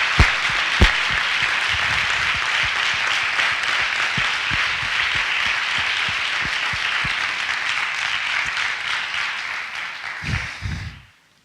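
Sustained audience applause at a book presentation event, a broad even wash of many hands clapping for about ten seconds, a few louder individual claps standing out, then fading out abruptly at the end.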